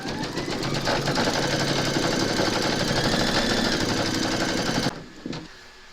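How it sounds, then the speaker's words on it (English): An embroidery machine stitching a round on a hooped Christmas bottle tag, a fast, steady mechanical rattle heard up close for about five seconds before it abruptly stops and leaves a quieter fading hum. "Pop your hoop into your machine and stitch round number 3 to secure it."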